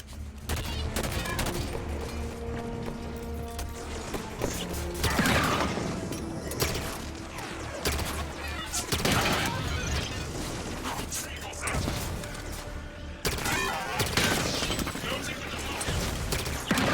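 Gunfire in the video game Halo 5, with bursts of shots and mechanical clatter running steadily through a dense, loud battle mix over a low hum, with talk mixed in.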